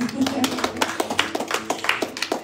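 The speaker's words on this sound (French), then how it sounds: "Après ça, tu peux applaudir la soeur." Scattered, uneven hand claps from a small church congregation mingle with voices, a loose patter of applause rather than a roar.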